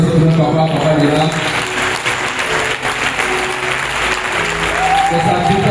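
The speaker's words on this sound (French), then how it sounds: "On va acclamer le Seigneur aussi pour notre papa est là" Congregation at a charismatic prayer gathering applauding continuously, dense and sustained clapping with voices and background music blended in.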